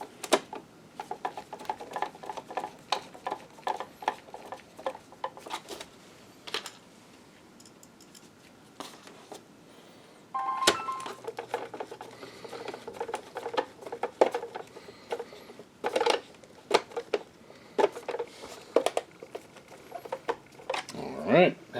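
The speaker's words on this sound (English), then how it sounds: "So let's put some screws in." Screws being driven by hand into a BenQ W1070 video projector during a ballast repair, a run of small close clicks and scrapes with brief pauses, fairly quiet throughout.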